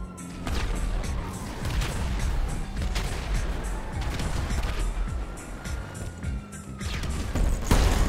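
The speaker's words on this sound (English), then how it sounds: "Ready for the long range sticky bomb?" Sticky bomb blasts in GTA Online, with several sharp booming explosions and crashes over a continuous rumble of game noise, a big burst near the start and another loud hit near the end.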